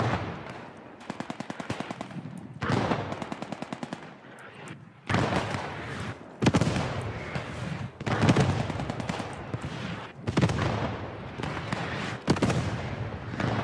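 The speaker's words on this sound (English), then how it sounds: "Is that artillery or their artillery dropping in the center of town?" Artillery shells burst repeatedly in the WWII shooter Post Scriptum, with heavy booming explosions arriving every second or two over steady rattling machine-gun fire, loud and close throughout, with no voices.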